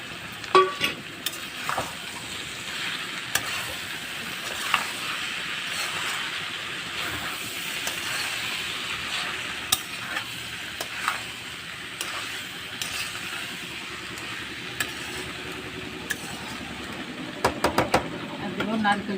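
Fried potatoes are stirred into a simmering banana flower curry, with an ongoing soft sizzle and repeated scraping stir strokes against the pan, loudest near the end, while a voice speaks over it.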